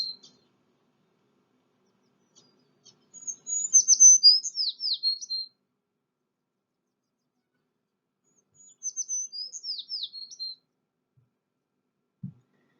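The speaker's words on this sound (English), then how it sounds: "So here's an example of a tree sparrow." Tree sparrow singing in spring, two separate bursts of high, quick twittering phrases with a long silent gap between, clear but fairly faint and distant, with no talking.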